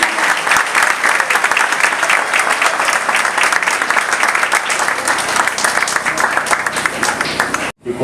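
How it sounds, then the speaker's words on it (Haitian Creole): A church congregation gives a loud, sustained round of applause at a celebration of the Apostolic Faith mission. The dense clapping runs on without pause and cuts off abruptly near the end. "Est-ce qu'elle va mériter un grand applaudissement à l'église?"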